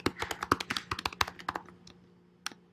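Keys clatter on a computer keyboard in a quick, uneven burst of close, crisp taps that thins out into a few scattered presses.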